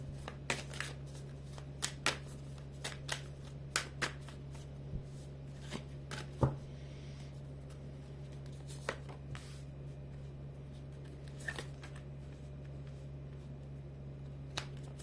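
Soft, scattered flicks and taps of tarot cards being handled, a dozen or so brief clicks spread irregularly over a steady low hum, with no talking.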